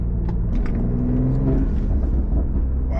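A BMW M340i with an MHD Stage 2 tune accelerating hard, its engine a loud, steady, droning rumble from start to finish with a rising growl, heard up close from inside the car.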